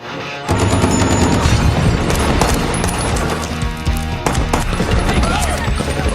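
Dense, continuous gunfire in a film, with rapid bursts and loud booms, fills the scene, a constant barrage from start to finish with no pause.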